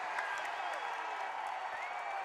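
A basketball arena crowd at a Fresno State vs Boise State college game roars in a continuous, dense wash of cheering and applause, loud and sustained with whistles and shouts mixed in.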